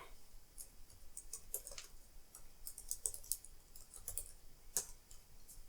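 Light, scattered keystrokes on an Apple IIgs computer keyboard, quiet and close, with irregular clicks spread across a few seconds and no talking.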